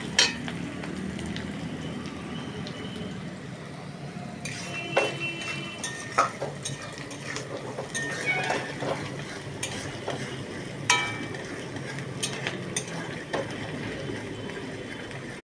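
Chopped onion sizzles steadily in a pan as it browns, with scattered utensil clicks and scrapes from stirring standing out over the continuous frying hiss.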